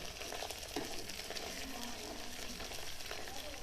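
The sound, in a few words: onions frying in a pan for biryani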